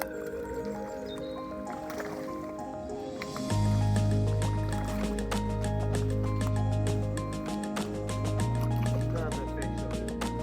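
A trout is released from a landing net back into the water at a stillwater fly fishery in West Wales. Soft wet sloshing and dripping play over a steady low outdoor rumble, close but not loud.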